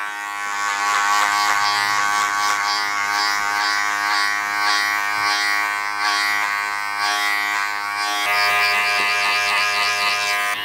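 Electric hair clippers with a guard attached buzz steadily during a barber's fade trim on a mullet, close and continuous with rhythmic shifts in pitch as they pass through hair, and a slight change near the end.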